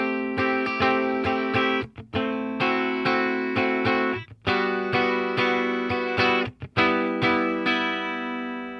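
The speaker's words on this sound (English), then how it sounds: "Clean twin is a 60s Fender twin reverb" An electric guitar plays through a Boss Katana's clean twin amp model, voiced as a 1960s Fender Twin Reverb, ringing out a series of sustained chords, each struck cleanly and left to decay before the next.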